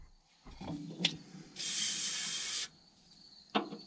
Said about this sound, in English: I'm going to kind of spray it down with some brake clean